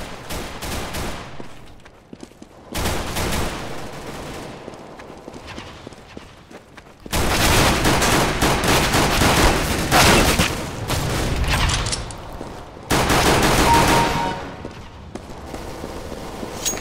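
Glock pistol fire in the video game CS:GO deathmatch, long stretches of rapid, dense shooting in loud bursts separated by short lulls, with no talk.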